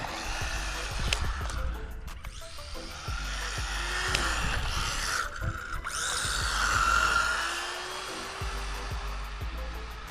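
Losi NASCAR RC car with a brushed motor driven at full throttle: a buzzing, whirring motor whine that rises and falls as the car passes near, with clicks and scuffs around it.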